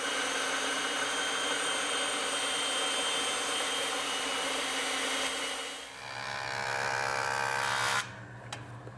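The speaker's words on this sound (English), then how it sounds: "laid out the taper lines, and I'll cut them over on the bandsaw" Bandsaw cutting tapered cleats from straight wood stock, a steady high whine with blade rush that softens midway, then a short lower hum before the cut ends and the noise drops off abruptly.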